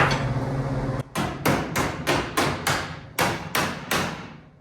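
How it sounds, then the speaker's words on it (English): Hammer striking a door hinge on a 1956 International truck, about ten sharp metallic blows in a steady rhythm, close and loud with ringing decay after each hit, no talk. "I'm going to tap that a few times and see what happens."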